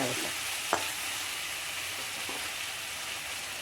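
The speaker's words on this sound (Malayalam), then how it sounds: "നമ്മൾ ഇതിൽ കുറച്ച് ചൂടുവെള്ളം ഒഴിച്ച് കൊടുക്കാം" Hot water poured into a pan of frying ash gourd masala curry sets off a steady, dense sizzle and bubbling that holds evenly throughout, with a faint clink near the start.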